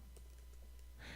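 Keys clatter on a computer keyboard as a gzip command is entered, quick light taps over a steady low hum, with a slightly louder burst at the end.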